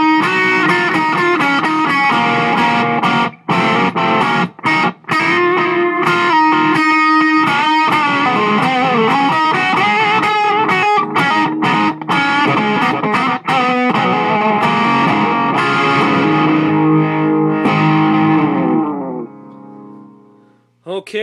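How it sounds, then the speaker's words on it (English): Electric guitar played alone through an Ibanez DE7 delay/echo pedal with a short delay setting, a long continuous passage of distorted chords and notes with echo repeats and choppy accents, ringing out and fading to near silence at the end. "a demo here of the Ibanez DE7 delay/echo pedal"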